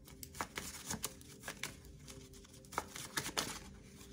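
Tarot cards shuffled in quick, uneven riffling bursts, soft crisp flutters repeating close up, quiet and alone with no talking.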